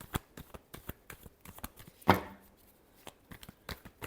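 Tarot cards are shuffled by hand in quick, regular riffling taps that come in a fast steady rhythm, with one louder flurry midway; the sound is quiet and close, with no talk.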